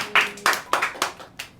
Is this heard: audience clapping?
yes